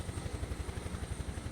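Huey helicopter rotor in Microsoft Flight Simulator 2024, a steady rapid thumping blade chop over a constant engine whine, close and continuous with no talking.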